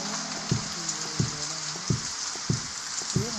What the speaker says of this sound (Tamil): இது மழை பெய்கிற மாதிரி